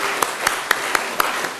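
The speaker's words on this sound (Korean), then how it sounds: "영광의 박수 한번 드리겠습니다." A church congregation claps in a steady beat, about four claps a second, with sharp, even strikes over a busy room wash.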